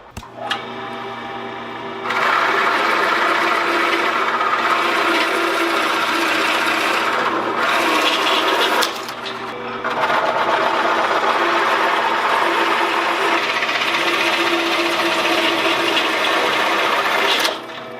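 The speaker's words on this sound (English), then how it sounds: "I need to make 4 holes for the legs to go through" A power tool drills holes through pine wood for entryway table legs, running loud and steady in two long bursts with a short pause between, close by.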